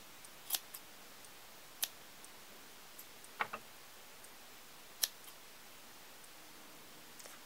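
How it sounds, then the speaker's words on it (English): Scissors snip crocheted yarn shrimp legs in a handful of sharp, separate clicks spread across a quiet background, close to the listener and faint overall. "I'll take my scissors and trim these kind of like this."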